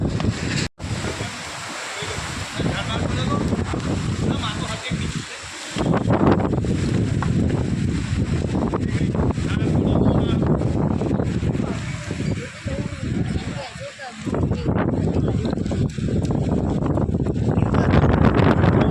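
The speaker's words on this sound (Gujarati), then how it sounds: "ભયંકર પવન આવી રહ્યો હા" Strong gusting storm wind with rain and hail buffets the microphone in heavy roaring waves, with a brief lull and surges of rumble throughout.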